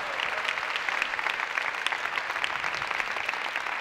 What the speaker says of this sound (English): How about a round of applause for that video montage we just saw,